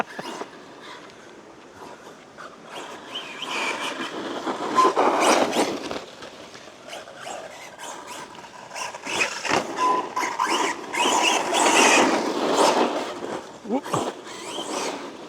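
A Team Corally Punisher 4 RC truggy drives around, its electric motor whining and revving in bursts with tyre scrabble and chassis rattles, moderately close.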